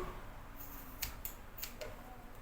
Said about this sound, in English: we are going to trim off majority of the excess